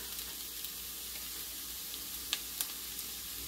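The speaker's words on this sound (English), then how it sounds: "So then you just slowly keep stirring, and you can see our eggs are getting all nice and fluffy." Scrambled eggs sizzle softly and steadily in browned butter, with a few light clicks and taps as they are stirred in the pan.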